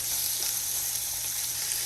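Shrimp sear in a hot pan for a crawfish and shrimp pasta, giving a steady, dense sizzle that holds evenly from start to finish, close and fairly loud, with no voices.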